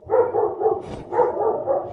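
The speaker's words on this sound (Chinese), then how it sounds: "外面传来了狗叫和脚步声" Dog barking outside at night, a quick series of close, loud barks in a steady rhythm with a brief pause in the middle.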